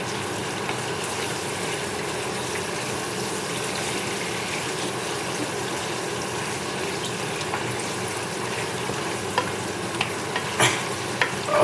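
A vinegar marinade for mackerel or sardine escabeche simmers in a pan, a loud, steady bubbling sizzle that continues throughout, with a few small clinks near the end and no speech.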